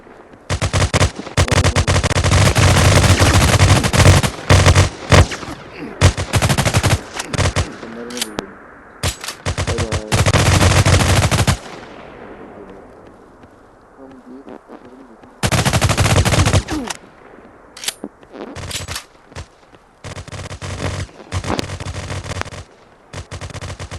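Gunfire in a realistic gun video game: loud, close bursts of rapid automatic fire and single shots in repeated volleys, broken by quieter gaps with faint background sounds and a little talk.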